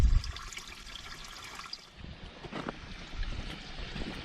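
Water flowing from a French drain and catch basin into a sump basin, a continuous trickling and splashing stream heard close by, with a few louder gushes toward the end.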